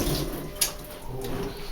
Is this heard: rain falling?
no